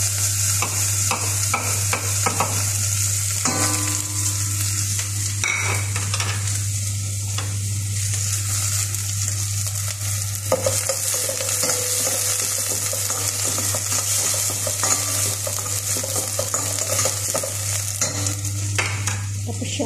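Garlic and then onion sautéing in a pan, a loud continuous sizzle with scraping stirs and clinks from a utensil over a steady low hum, no voices.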